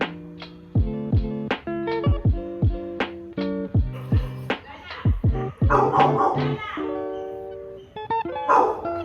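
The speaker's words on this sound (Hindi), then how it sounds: "कुत्ता भौंक रहा है।" A dog barks repeatedly up close in sharp, rhythmic bursts, with some whimpering yips, and people talk briefly in the background.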